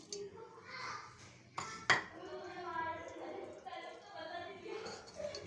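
Sugar, coconut and raisins being stirred in a dish, with soft scraping and clinking of a spoon and one sharper metallic knock, under steady talk throughout.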